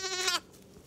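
A dairy ewe on a homestead gives a single short, wavering bleat, close and clear, cut off sharply after under half a second, with quiet afterward.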